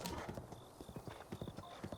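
A horse trots across a bridge in The Legend of Zelda: Breath of the Wild, its hooves clip-clopping in a quick, steady rhythm close by over a faint ambient game background.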